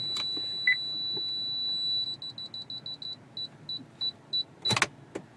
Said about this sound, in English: If you don't like the beeping,